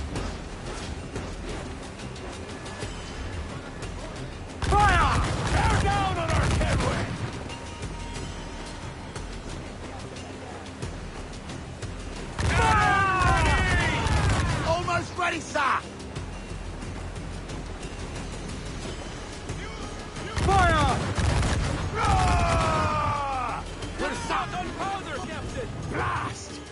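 Ship cannons in the pirate naval battle game Assassin's Creed 4 Black Flag, fired in three heavy, booming volleys a few seconds apart over ocean ambience, with shouting crew voices between the blasts.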